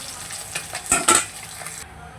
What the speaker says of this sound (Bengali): এবারে আবার বাকি মাছগুলোকে ভেজে নেব